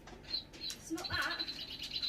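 A toy bird giving electronic chirps and tweets indoors, a thin high repeating call over faint background noise and a few soft knocks.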